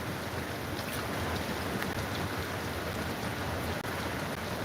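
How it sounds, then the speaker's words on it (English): Strong wind roars steadily during a severe tornado warning in southeast Oklahoma, a dense, constant rushing wash with faint rattling, heard at low level with no talking. "The wind's picking up"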